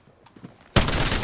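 Sudden loud gunfire in the video game Apex Legends that bursts in after a near-quiet moment and keeps going as dense, continuous shooting up close.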